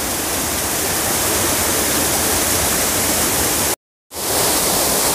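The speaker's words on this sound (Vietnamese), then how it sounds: "Con suối này đẹp không quý vị?" A flowing stream, part of Suoi Para or Suoi Ho in Dai Lanh, gives a loud, steady broadband rush of water close by. It cuts out abruptly for a brief moment, then resumes.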